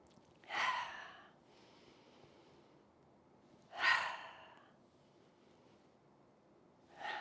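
Slow yoga breathing during a therapeutic hips and spine session: two full breath cycles, each a sharp audible inhale swelling then easing into a soft, longer exhale, with a third inhale starting at the end, close and alone.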